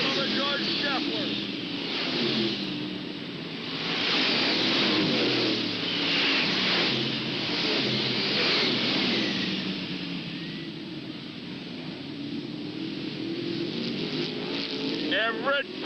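Stock cars racing at Hales Corners Speedway, a dirt oval, in 1995: a steady roar of several engines rising and falling as the pack circles, with a commentator's voice running over the noise.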